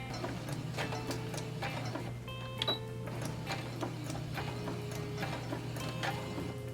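Sewing machine taking a few stitches forward and then backward, heard as quiet, steady mechanical ticking and ratcheting clicks over a low motor hum.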